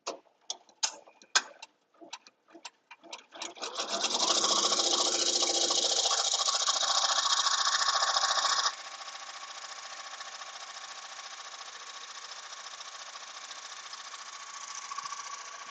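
An embroidery sewing machine stitches a design on automatic: a few scattered clicks give way to a loud, steady, rapid mechanical chatter, which then drops to a softer continuous hum that keeps running to the end.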